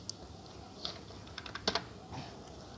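Someone types on a computer keyboard during a Python programming tutorial, with scattered light key clicks and a short quick run of taps, close and quiet over faint background noise, with no talking.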